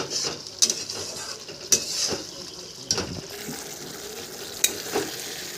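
Fried prawns are stirred into a pan of malai curry, giving a soft sizzle with several sharp scrapes and clinks of a spoon against the pan, spaced irregularly and close by.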